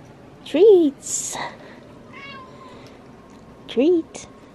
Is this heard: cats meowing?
yes